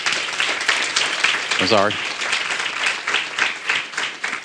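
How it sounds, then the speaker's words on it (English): Applause and scattered clapping fill the room while a voice speaks briefly over it. "Can we give him a round of applause, please?"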